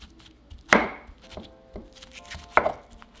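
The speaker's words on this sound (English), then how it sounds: "using our molcajete, we're going to start by crushing our 2 garlic cloves, a little bit of salt, and a little bit of water." Garlic cloves with salt being crushed in a stone molcajete: a few sharp, hard knocks and grinding thuds spaced unevenly over a few seconds, close and with no talking.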